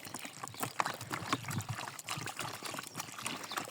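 Water poured into a bowl for dogs in freezing weather, a faint, uneven trickle and splash with a few light knocks, no speech.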